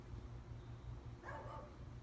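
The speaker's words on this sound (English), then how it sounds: "There's neighbor dogs barking" Neighbor dogs bark once or twice at a distance, faint under a steady low background hum.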